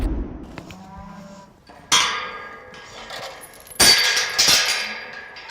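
Cattle moo several times in a tall-grass pasture, a low call early on, then louder, drawn-out bellows around the middle and end, fairly close with quiet outdoor background between them.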